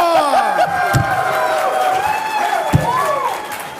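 An audience at the PAX Unplugged 2017 gaming convention panel cheers and whoops, with rising and falling shouted voices over a steady crowd roar that lasts the whole moment.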